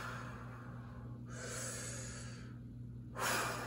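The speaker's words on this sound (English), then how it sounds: "One more huge breath. Take a huge inhale." Deep, steady breaths during a towel workout for Parkinson's and neuromuscular disorders, a long airy inhale followed by a second forceful breath near the end, close and fairly quiet with no talking.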